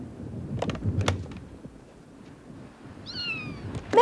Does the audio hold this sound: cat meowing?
yes